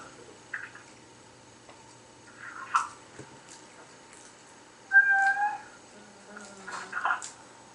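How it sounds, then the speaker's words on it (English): Romeo, a pet cat, meows several times at close range: short, scattered calls with pauses between them, one clearer and louder than the rest, over quiet room ambience. "I hear a kitty."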